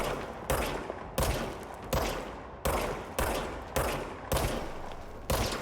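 About eight loud, evenly spaced gunshots ring out in the game Control, each one sharp and followed by a short decaying echo, fired roughly once every 0.7 seconds.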